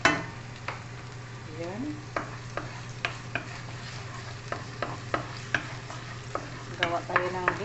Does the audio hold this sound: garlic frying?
yes